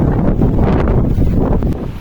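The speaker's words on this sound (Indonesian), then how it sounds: "Angin dan debu ikut serta kami, hingga membuat perjalanan sedikit terganggu." Strong gusts of wind buffet the microphone on the dusty Mount Merbabu hiking trail, a steady, loud broadband rush with rustling, continuous for the whole stretch and no voices.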